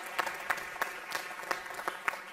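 Applause for a speaker at a university event, a steady patter of many hands clapping with a few sharper accents, moderately close and continuing without voices.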